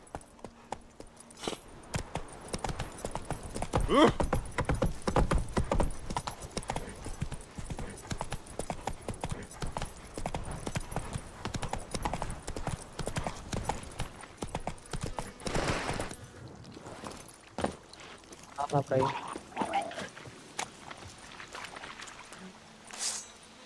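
Roach the horse galloping in The Witcher 3: Wild Hunt, with rapid rhythmic hoofbeats that continue at length at close range, plus occasional jingling tack and a couple of louder bursts.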